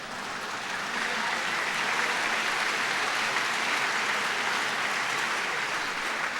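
Parents in a large audience at a DePauw University welcome for incoming first-year students burst into dense, steady applause, a loud, sustained wash of clapping that swells after the first second and holds evenly throughout.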